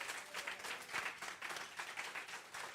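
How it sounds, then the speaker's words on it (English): A church congregation at a Sunday celebration claps for Janet. The applause is faint and distant, in short uneven waves. "can we give Janet another round of applause?"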